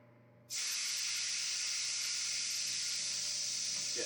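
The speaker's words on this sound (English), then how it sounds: "This is still steaming." Freshly cooked bone-in chicken thighs let off a loud, steady hiss of steam that starts abruptly after a brief quiet moment and continues evenly, close up, with no voices.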